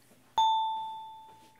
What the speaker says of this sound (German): Was klingelt denn da? Ach, das ist das Handy.